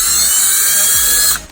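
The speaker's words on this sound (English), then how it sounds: "I'm gonna drill this through." A power drill bores through the damaged grille of a Mercedes S550, whining steadily and close for over a second before cutting off abruptly.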